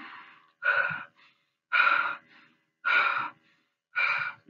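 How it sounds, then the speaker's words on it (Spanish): Heavy, rhythmic panting breaths, four loud gasping inhalations spaced about a second apart with quiet pauses between, close and alone, tied to oxygen intake during physical exertion. "ese gesto en donde yo empiezo a jadear y absorber de más oxígeno"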